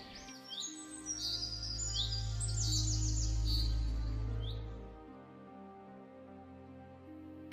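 A single bird calls and chirps in bursts over a steady low hum and music in a Hindi folk-tale setting, the chirps clustered in the first few seconds, then fading.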